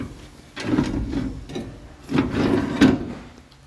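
Entry steps on a 2016 Heartland Big Horn 3160 fifth wheel RV folding and sliding in, giving two close, rubbing metallic clunks about a second and a half apart.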